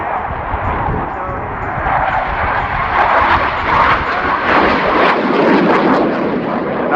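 A jet aircraft flying a high alpha roll at the RIAT 2019 air show gives a loud, continuous engine roar that swells and rumbles throughout, heavy and near.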